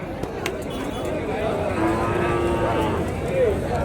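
Cattle at a native cattle market, with a few low moos rising out of a busy outdoor background of crowd murmur and distant traffic, moderately close.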